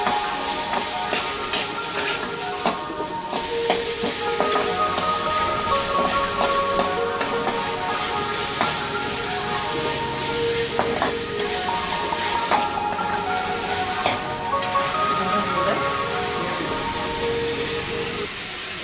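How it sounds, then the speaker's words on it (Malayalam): Ginger garlic paste sautéing in a pan for a homemade vegetable pizza, a steady loud sizzle with frying hiss and occasional stirring scrapes throughout, no talking. "ഇഞ്ചി വെളുത്തുള്ളി പേസ്റ്റ് ഇതും കൂടി നന്നായിട്ടൊന്ന് വഴറ്റുക."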